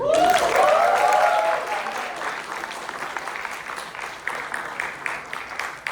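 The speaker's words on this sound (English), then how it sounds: "Can we have a round of applause?" Audience applause fills a debate grand final hall, a dense loud wash of clapping that starts strong and gradually thins, with a voice and tonal sound briefly over it at the start.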